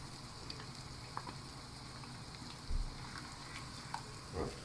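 Tomato hitting a hot pan while cooking eggplant caviar sets off a faint, steady sizzle with a few soft pops and crackles, heard alone.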